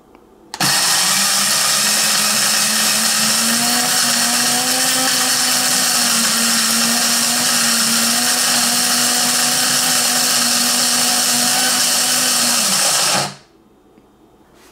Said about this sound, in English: I'm going to select 4 cups just for this test. And the minute I press start, it's automatically going to do its thing.